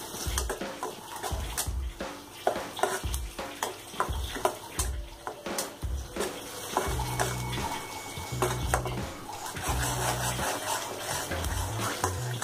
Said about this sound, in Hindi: और ये अदरक और प्याज और लहसुन का जो पेस्ट था वो डालेंगे इसमें। इसे हम भूनेंगे